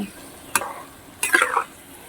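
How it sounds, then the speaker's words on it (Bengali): A lid goes onto a cooking pot of prawns with Malabar spinach. Two quick metallic clatters about a second apart each trail into a short rattle over a quiet simmer. "এবার ঢাকা দিয়ে দেব"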